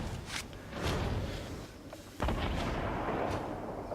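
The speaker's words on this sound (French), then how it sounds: "j'entends un bazooka là par contre" In the video game Fortnite Battle Royale, a bazooka fires in two heavy, booming blasts, each followed by a rumbling tail, against a noisy game background.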